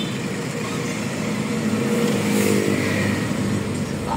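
Road traffic crawls past flood-control construction near Bulacan Polytechnic College in Malolos, Bulacan, during typhoon Uwan closures, with a close, steady engine drone and a car revving as it moves.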